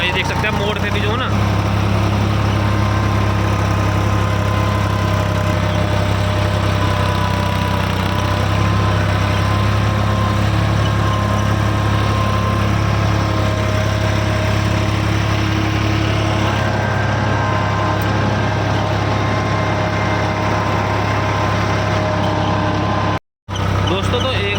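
A tractor engine drones steadily and loudly throughout while tilling a field on a second pass, a constant low rumble with faint clanking.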